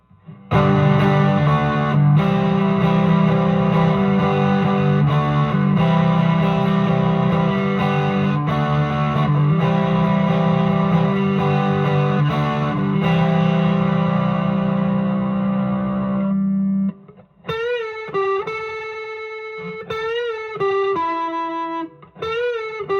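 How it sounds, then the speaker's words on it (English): Loud distorted electric guitar chords from a Squier Classic Vibe '60s Stratocaster through a Vox AC10 and JHS Angry Charlie pedal, ringing steadily for about seventeen seconds, then a brighter, cleaner run of picked notes with echoing decay. "Through the AC-10 and a JHS Angry Charlie distortion pedal"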